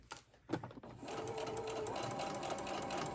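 Sewing machine stitching fabric candy cane Christmas ornaments with red thread, starting after a few light handling knocks and then running in a steady, close, continuous hum of rapid stitches.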